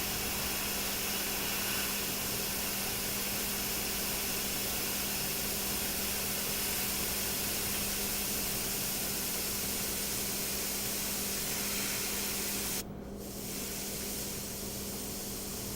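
A micro airbrush hisses steadily as it sprays paint for fine details on a dragon artwork, a continuous close air hiss that cuts out briefly near the end.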